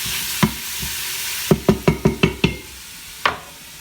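Stirring duck and mushrooms in an Instant Pot: a series of quick scraping spoon strokes against the pot, several in a rapid rhythmic run, set against a soft sizzle.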